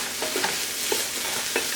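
Turmeric, ginger and ground whole spices cooking in a pan, stirred in short scraping strokes roughly twice a second over a soft steady sizzle.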